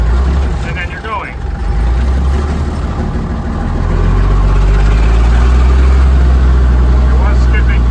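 An old Constructor cement truck, parked after sitting for over 25 years, runs with a deep, uneven diesel idle that stumbles and misfires. It is steady and fairly loud, and a brief voice can be heard early on.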